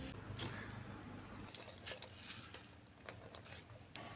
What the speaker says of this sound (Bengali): আমি এখানে পালং শাক লবণ দিয়ে মেখে নিয়েছিলাম, এখন ভালো করে চিপে জল ছাড়িয়ে নেব